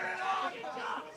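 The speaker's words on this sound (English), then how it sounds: "crowd getting into it down here" Football crowd at a TDFL semi-final between the Hawks and Tigers, cheering and yelling in one brief, swelling roar of many voices at a moderate distance.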